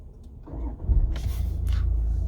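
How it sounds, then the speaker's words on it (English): A Range Rover Velar engine cranks and catches, settling into a steady low idle after a couple of brief mechanical whirs. "jumps in, starts the vehicle up."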